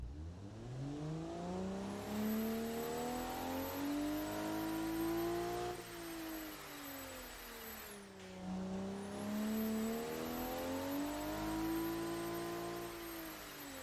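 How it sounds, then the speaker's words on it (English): A 3.5-litre inline six-cylinder car engine with a modified exhaust drones in a driving game, rising and falling in pitch through gear changes, with a high whine over the steady revving. "I'll let you hear the engine."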